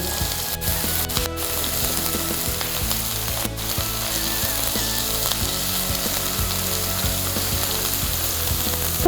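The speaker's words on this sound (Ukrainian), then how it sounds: "Поки цибулька обсмажується" Steady crackling sizzle of onion frying in a hot pan, continuous and close, with faint clinks of a utensil.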